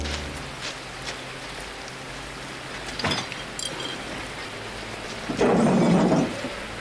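Steady rain hiss on a slick street in a movie scene, with a couple of sharp impacts and a brief louder splash near the end.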